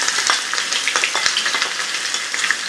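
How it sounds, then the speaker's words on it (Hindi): Chopped onions frying hard in hot oil over a high flame, a dense, crackling sizzle with quick popping bursts, close and loud throughout. "मैंने ये प्याज ऑनियन जो भी कटी हुई है इसमें डाल दिए"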